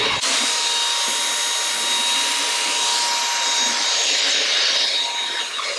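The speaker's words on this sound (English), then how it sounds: "I'm using my Dyson to vacuum any dust or powder from my makeup." A Dyson vacuum cleaner whirs steadily and loudly close by, its high-pitched motor hum shifting slightly as it moves over makeup to remove dust and powder.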